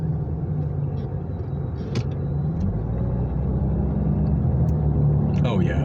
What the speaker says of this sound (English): I'm already hitting this kind of traffic on southbound I-17 here